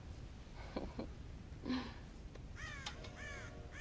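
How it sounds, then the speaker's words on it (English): Crows cawing around a farm silo in the Red Dead Redemption video game, several harsh caws in short separated bursts, some paired, moderately close over a noisy outdoor background. "God damn crows!"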